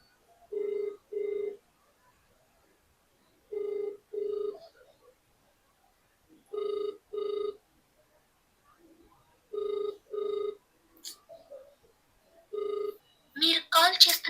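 An unanswered outgoing phone call rings in paired tones repeating about every three seconds, clear and close in otherwise quiet surroundings, with a brief burst of other noise at the end.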